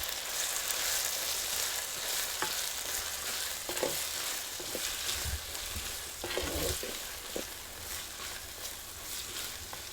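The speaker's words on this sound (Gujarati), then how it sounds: "સહેજ આપણે હલાવી નાખીએ એટલે હેઠે સોટું નથી ને" Baby potato curry with turmeric and chili powder being stirred in a pan: a steady, fairly loud sizzle runs throughout, with scraping stir strokes at irregular intervals and no talking.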